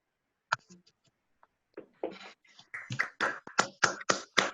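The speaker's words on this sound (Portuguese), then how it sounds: "Então, eu gostaria que o pessoal abrisse o áudio para dar uma salva de palmas para o Bruno." Applause in an online meeting, a few scattered claps at first that build into a run of sharp, close individual hand claps from participants with open microphones.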